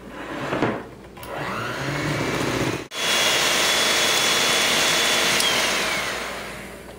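Electric hand mixer beating piña colada cupcake batter on low speed, a loud steady whirring motor that drops out briefly, then resumes at a constant drone.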